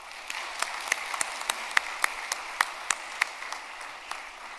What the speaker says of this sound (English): please give them a big hand of applause